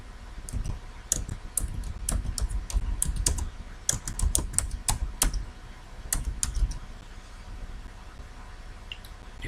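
Someone typing a name on a computer keyboard, irregular bursts of close, crisp key clicks with short pauses, trailing off toward the end.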